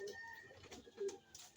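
Racing pigeons give a few soft coos close by, very faint and brief, over quiet background hiss.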